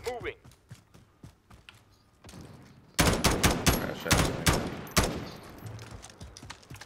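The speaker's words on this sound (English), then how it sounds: "Who's shooting?" Gunfire in Call of Duty: Warzone, scattered single shots at first, then dense rapid bursts of automatic fire crackling loudly in close volleys, with players talking over the shooting.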